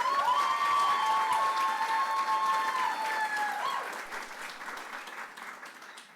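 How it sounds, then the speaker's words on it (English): Audience applause at a stuttering camp in Atlanta, a dense, steady wash of clapping that slowly fades, with a few faint voices mixed in. "can we give a round of applause to everyone who went today?"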